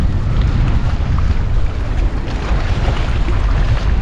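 Wind blows hard across the seaside at Pannai beach in Jaffna, making a dense, steady rush with surf rumbling underneath and no voices.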